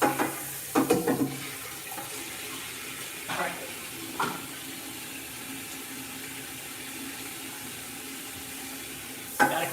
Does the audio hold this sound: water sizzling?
yes